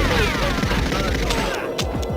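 Gunfire in the N64 game GoldenEye 007, loud rapid bursts of shots crackling continuously with booming low thuds, alone without talk.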